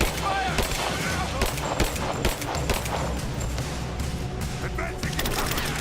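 Gunfire in the Tomb Raider video game, repeated sharp shots and automatic bursts with splintering wooden impacts, close and busy throughout, with voices briefly audible in the combat.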